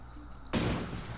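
Gunfire from the shooter game Cyber Hunter erupts abruptly after a brief quiet moment, a loud rapid burst of shots that keeps rattling to the end.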